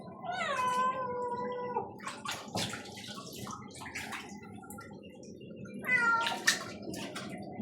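A cat meows repeatedly in drawn-out, pleading cries while another cat is being showered nearby, with running water splashing steadily underneath throughout.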